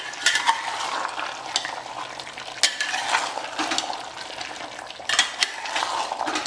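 Mutton curry with spices being stirred in a pan, a spoon scraping and clinking against the metal in repeated strokes over a soft sizzle, close and alone without talk.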